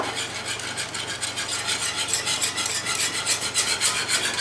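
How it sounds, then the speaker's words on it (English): A whisk scraping quickly and steadily through roux gravy in a pan, making a loud, continuous rhythmic rasping close by, with no speech. "Whisk, whisk, whisk."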